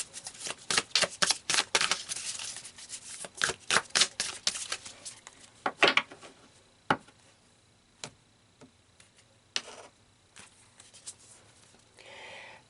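Tarot cards being shuffled and drawn from a deck, a run of sharp close riffling flicks and slaps in quick bursts at first, then sparser single snaps and soft slides of cards, with no talk.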